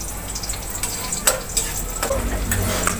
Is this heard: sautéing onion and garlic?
yes